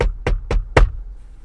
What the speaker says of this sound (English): You knock on the window.